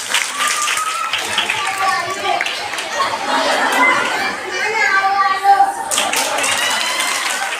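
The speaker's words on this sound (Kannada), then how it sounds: "ಜೋರಾಗಿ ಚಪ್ಪಾಳೆ ತಟ್ಟಾರೆ ಹಿಮಗೆ." Children and adults clap loudly at a Christmas church nativity play, the dense, steady clapping mixed with chatter and children's voices throughout.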